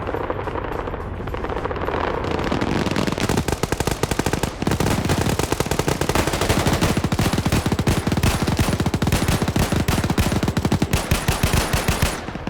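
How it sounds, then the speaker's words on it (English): Sustained suppressive machine gun fire in a modern combat video game, loud rapid bursts of gunfire that build into a nearly continuous rattle of close and overlapping shots. "You're seeing some suppressive fire firing"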